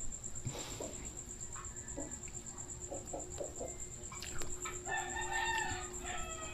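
Chickens cluck softly while a rooster crows in the distance, over a faint steady hum and quiet night ambience.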